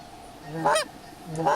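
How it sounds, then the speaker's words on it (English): Two loud goose honks from geese in the hunting video game theHunter Classic, each a sharp nasal call, separated by a brief pause with a faint background. "there goes some geese"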